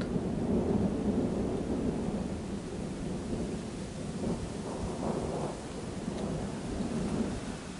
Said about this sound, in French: j'entends un tonnerre qui dure aussi longtemps